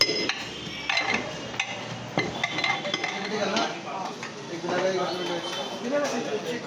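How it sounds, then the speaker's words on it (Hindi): Ghee being mixed by hand into crushed baati at a famous Ratlam dal baati eatery. Soft, irregular stirring and clattering of the crumbled mixture continues throughout, with a busy, talky background of voices and clinks. "घी डालने के बाद कितना बढ़िया इसको मिक्स किया जा रहा है"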